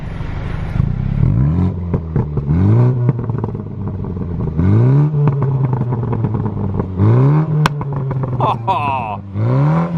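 A MINI Clubman JCW with its stock exhaust revs outside, several sharp rising blips with pauses between them, loud and close, ending in pops and crackles.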